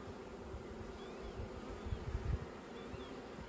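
Honeybees buzz softly and continuously during a beehive inspection, a faint steady drone of many insects with a slight swell near the end and no voices.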